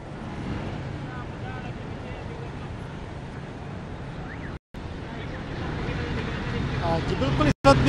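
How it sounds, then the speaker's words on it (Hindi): Strong wind blows outdoors in a city, a loud continuous rushing roar buffeting the microphone throughout, with brief dropouts and a voice speaking faintly beneath it. "इस वक्त भी शहर के कुछ इलाकों में तेज़ हवाएं चल रही हैं"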